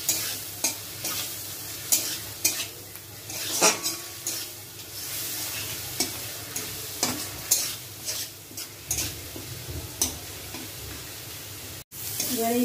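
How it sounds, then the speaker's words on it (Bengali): Spice paste with added ground spices being sautéed in a pan for a Bengali niramish paneer dish, with a spoon repeatedly scraping and stirring over a steady low sizzle and occasional clinks against the pan, close by and fairly quiet. "এবার এই মশলাটা দিয়ে একটু কষিয়ে নেব।"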